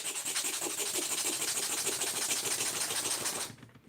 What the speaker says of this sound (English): It needed a little bit more sanding,